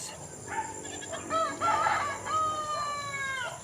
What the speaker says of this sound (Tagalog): may ibon dito